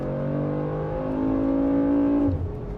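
A Mercedes G63 4x4² with over 550 horsepower and 627 lb-ft of torque accelerating in sport plus mode, its engine note loud and rising steadily before cutting off abruptly near the end.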